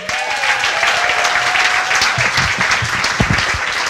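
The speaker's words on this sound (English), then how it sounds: "please give a big round of applause of welcome to Marty" An audience at a live West Seattle comedy show gives loud, sustained clapping to welcome Marty Reamer, with a few cheers mixed in.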